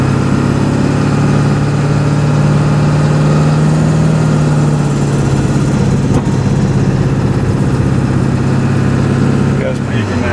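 Ford 7.3 liter diesel engine with water-methanol injection quenching, a loud steady close-up drone with a strong low hum that shifts in tone midway, continuous for about ten seconds.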